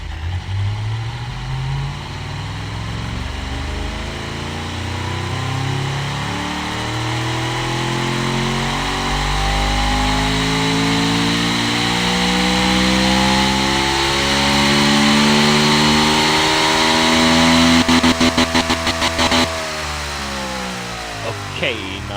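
A V8 engine in the racing and car-building game Automation revs steadily and loudly, its pitch rising and sweeping in long harmonic bands, with a brief rattling stutter near the end while people talk over it.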